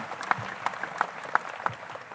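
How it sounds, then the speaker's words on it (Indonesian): Scattered audience applause for Kediri at a cultural gathering, a thin run of separate claps spaced across a couple of seconds, fairly faint and distant. "Tepuk tangan buat Kediri."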